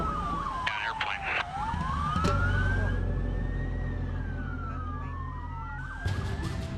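Wailing emergency sirens from fire engines and police sweep up and down in pitch, loud and close, with a low engine rumble underneath and short bursts of other noise at the start and end.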